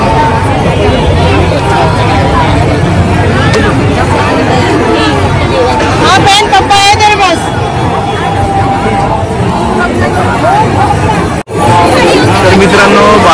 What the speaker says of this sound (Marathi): रविवार असल्यामुळे फुल गर्दी आहे